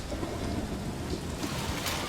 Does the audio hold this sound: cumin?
no